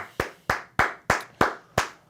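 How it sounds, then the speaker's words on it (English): A man claps his hands six times at a steady, unhurried pace, each clap sharp and close, with nothing else heard between them. "And I will clap it up"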